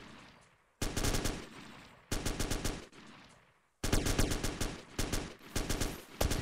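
Machine gun fire in the ArmA 2 video game rips out in three loud, close bursts of rapid, evenly spaced shots, with short quiet gaps and decaying echoes between them.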